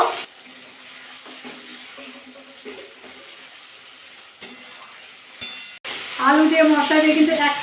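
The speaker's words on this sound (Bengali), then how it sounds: "আলু দিয়ে কিন্তু এক থেকে দু মিনিট ভালো করে আবার কষিয়ে নেবো" Fried potatoes being stir-fried with spice paste in a pan for a vegetarian cauliflower dish, a low sizzle with light scraping, then a louder burst of frying and stirring near the end, with no talk.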